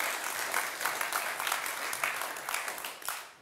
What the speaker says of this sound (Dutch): Graag een hartelijk applaus op dit moment voor Tim Segers.